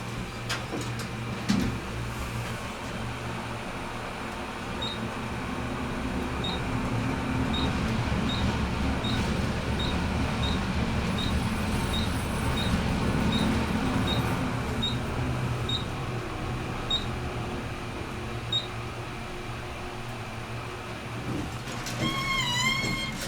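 A modernized Westinghouse Selectomatic elevator at the Alcoa Building rides upward with a steady low rumbling hum, while a regular series of short, high beeps sounds as floors pass, then a brief chime near the end.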